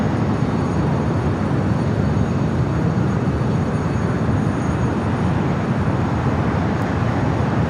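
Cathay Cargo aircraft at LAX airport, a loud continuous roar of jet engine noise holding steady and unbroken, with no voices.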